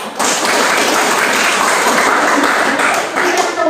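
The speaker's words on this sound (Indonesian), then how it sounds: "boleh tepuk tangan untuk aku" A classroom audience breaks into brief, loud, dense applause for a teacher, a continuous wash of many hands clapping at once.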